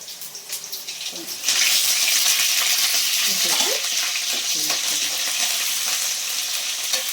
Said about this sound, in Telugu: చూడండి ఫ్రెష్గా మా చెట్టుదండి కరివేపాకు కూడా వేసేస్తున్నాను